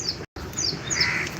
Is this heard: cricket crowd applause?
no